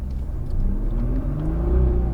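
A Nissan GT-R engine pulls under smooth throttle, a close, steady rumble that climbs gradually in pitch over a couple of seconds.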